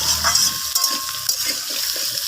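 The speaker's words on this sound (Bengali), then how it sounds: "দেওয়ার পর আমি এইভাবে তেলের সাথে সবজিগুলোকে একটু নাড়াচাড়া করে ভেজে নিচ্ছি" Potato, papaya and eggplant pieces are stirred through hot oil in a pan. Loud scraping stirs and clinks sound over a soft frying sizzle, in an uneven rhythm of repeated strokes.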